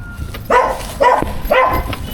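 A dog barks three times, loud and close, with the barks spaced about half a second apart in an even rhythm.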